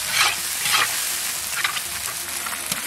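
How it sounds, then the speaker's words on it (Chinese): Whole spices and chili bean paste stir-fried in hot oil in a wok, with a crackling sizzle and repeated scraping stirring strokes, up close and without voices. "来点豆瓣酱，炒出红油"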